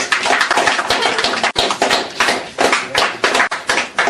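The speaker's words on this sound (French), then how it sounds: "On l'applaudit bien fort." An audience applauds a doctor after a talk on the prostate, loud, close rhythmic clapping with distinct individual hand claps, sustained throughout with a couple of brief dips.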